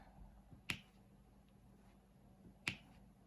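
A glue dot pulled free with a subtle little pop, heard twice as sharp, quiet clicks about two seconds apart against a faint background.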